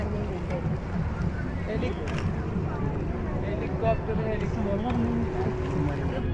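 A low, rumbling engine drone from a houseboat passing on the water at the Beypore Water Fest in Kerala, mixed with wind and background voices.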